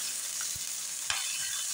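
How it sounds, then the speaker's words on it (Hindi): Onions frying in oil in a pan for a brinjal dish, cooking toward golden brown: a steady, fairly quiet sizzle with a couple of brief stirring knocks from a utensil, no voices. "प्याज को हम जो है ना वो गोल्डन ब्राउन करेंगे"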